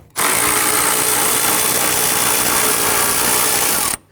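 A power drill or impact tool whirs steadily for about four seconds, loud and close, removing a 10mm bolt near the headlight of a 2011-2015 Kia Sorento, starting and stopping abruptly.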